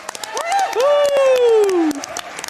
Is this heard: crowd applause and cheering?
yes